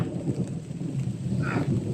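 Heavy rain pours steadily with a low, rumbling roll of thunder, close and loud, with no voices.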